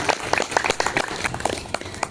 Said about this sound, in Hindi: सभी उनका तालियां बजाकर स्वागत करें